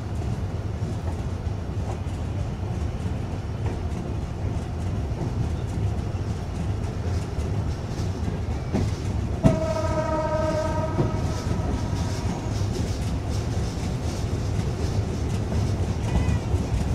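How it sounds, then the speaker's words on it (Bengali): Jahanabad Express passenger train rumbles along after leaving Narail station, a steady rolling clatter from inside the train, with a long horn blast sounding midway. "আমাদের ট্রেন ছেড়ে দিল নড়াইল রেলওয়ে স্টেশন থেকে"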